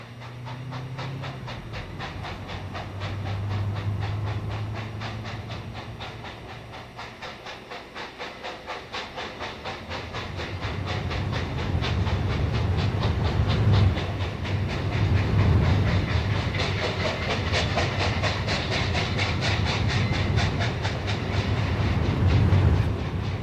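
Santa Fe steam locomotive 3759 hauling an excursion train uphill in 1955, loud rhythmic chuffing and hissing steam that grows heavier and more forceful midway, with no talk.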